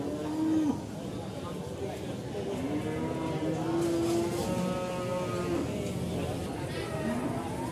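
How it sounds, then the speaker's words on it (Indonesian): Cattle moo repeatedly at a cattle market, several long low calls overlapping amid a busy crowd murmur of voices and market noise. "salah satu sapi lokal yang ada di pasar sapi Pahingan"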